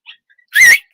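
A dog gives a single sharp, high bark up close, loud and brief, preceded by a faint yip.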